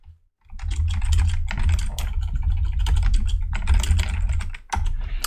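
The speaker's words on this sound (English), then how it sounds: "type and enter, which is much faster" Rapid keystrokes clatter on a computer keyboard close up, a steady flurry of typing with brief pauses and no voices.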